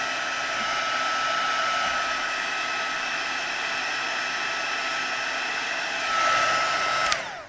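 A heat tool blows steadily and loudly throughout while melting white embossing powder on a card, a constant airy roar that swells slightly before cutting off abruptly at the end.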